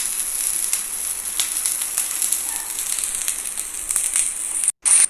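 Banana pancake batter sizzles as it is poured bit by bit into a hot pan, a steady close hiss with light crackling and spitting that runs evenly throughout, no voices.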